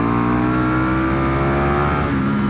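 A 2025 BMW S1000RR on a track gives a loud, close, high-revving engine whine that holds steady and then drops in pitch as the throttle closes under braking.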